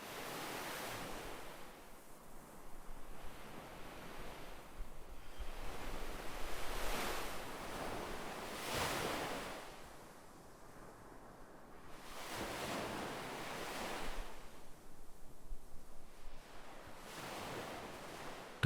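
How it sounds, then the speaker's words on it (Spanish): Gentle ocean waves on a beach wash in and recede in a slow, regular rhythm, soft and distant, with no voices. "El suave murmullo de las olas lejanas te arrullará suavemente."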